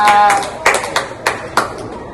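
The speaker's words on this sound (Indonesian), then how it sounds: "Tepuk tangan sekali lagi untuk bintang-bintang tamu kita." A handful of sharp hand claps land at a steady, spaced-out pace over a faint background hum, more a scattered clap than full applause.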